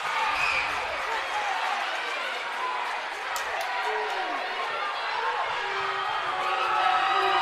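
A high school basketball crowd at a Wetumpka versus Percy Julian area tournament championship stands and roars during tense free throws, a steady loud indoor din with scattered whistles and squeaks under play-by-play commentary.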